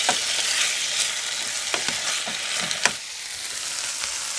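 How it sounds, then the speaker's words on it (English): Meat sizzling steadily in a hot pan after bulgogi sauce is added, with a few sharp pops and crackles through a constant frying hiss, close and alone. "I'm just going to hit them with a little bit of the bulgogi sauce while they're in the pan"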